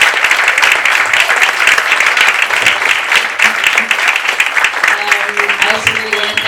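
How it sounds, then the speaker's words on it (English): A public meeting audience breaks into loud, sustained applause for three speakers, dense clapping throughout with voices mixed in. "Big applause to all three speakers for being here."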